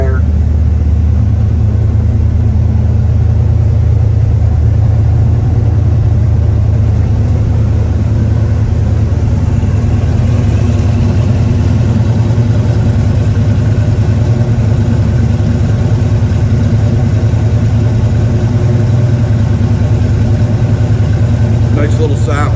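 1969 Chevrolet Nova with a built 355 V8, MSD ignition and high-rise manifold, idling steadily with a loud, low rumble throughout, close by and unbroken.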